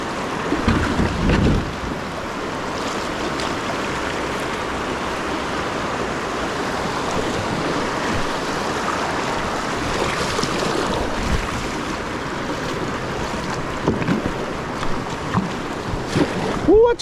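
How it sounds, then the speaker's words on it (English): Fishing kayak pushing over choppy river waves, with steady water rush and splashing against the hull throughout, a close wind-blown wash and a few brief knocks near the start and end. "Let's see how it goes over these waves."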